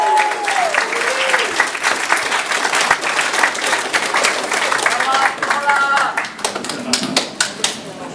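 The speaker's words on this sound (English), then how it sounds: "if we could clap for them" A room full of people applauds warmly for several seconds, steady clapping that thins out toward the end, with talking heard over it.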